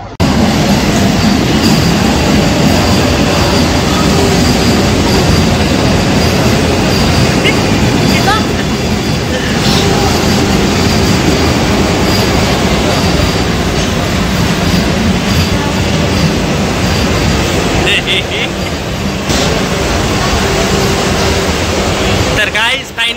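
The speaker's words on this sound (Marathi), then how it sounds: "तर गाईज फायनली आमची वंदे भारत ट्रेन आलेली आहे" A Vande Bharat train pulls into a station with a loud, sustained rumble and clatter of wheels that fills the whole stretch, while people talk over it.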